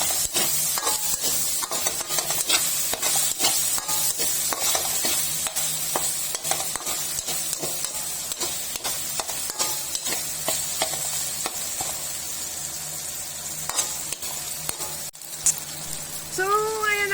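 Ground pork frying in a pan while being stirred, a steady loud sizzle with repeated scraping strokes of the utensil throughout and quiet talk underneath.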